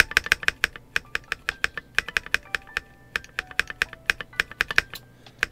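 A KiiBoom Phantom68 mechanical keyboard in pink transparent housing is typed on, with close, crisp keystrokes in a quick, steady run and short pauses between bursts.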